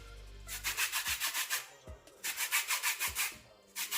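Lemon peel rasped against a grater for a Jamaican black cake, quick rhythmic scraping strokes in two bursts of about eight passes each, close and crisp, with brief pauses between.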